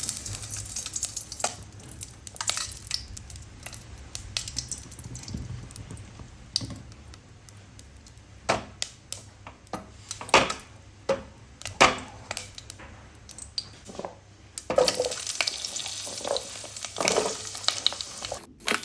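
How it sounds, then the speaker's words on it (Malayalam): Washed pumpkin pieces sauté in ghee in a pan for pumpkin payasam, giving a low steady sizzle broken by repeated clicks and scrapes of stirring. "നമ്മൾ നെയ്യ് ഒഴിച്ചിട്ടുണ്ട് പിന്നെ കഴുകിയെടുത്തിട്ടുള്ള മത്തൻ കഷ്ണം ഇതിലേക്ക് ഇട്ടിട്ടുണ്ട് എന്നിട്ട് ജസ്റ്റ് ഒന്ന് ഇങ്ങനെ വഴറ്റണ പോലെ ആക്കിയിട്ട്"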